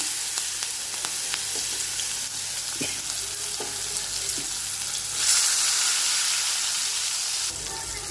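Tomatoes and green chillies sizzling in hot oil for a cluster bean curry, a steady close crackling fry with a few stirring taps and a louder sizzle surge midway.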